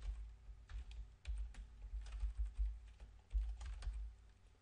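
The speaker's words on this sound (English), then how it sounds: "I hit INS on my keyboard. And then I can start writing." Fast, irregular clicking of computer keyboard keys being typed in the VIM text editor, with close, crisp keystrokes in uneven bursts and short pauses, alone without talk.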